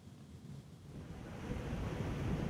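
Strong wind roars over rough, crashing sea waves on the coast during a tropical storm, a steady broadband rush that builds louder toward the end, with no voices.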